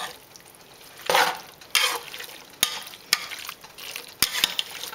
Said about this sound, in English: I'm going to give this a good stir